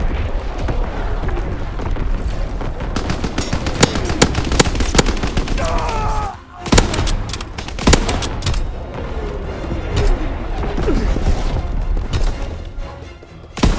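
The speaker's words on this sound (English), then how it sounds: "Incoming enemy artillery! Get to cover!" Incoming enemy artillery and gunfire in Call of Duty: WWII, a dense, loud battlefield din of rapid shots, booms and rumbling blasts running nearly the whole time, with a brief dip in the middle before the barrage resumes.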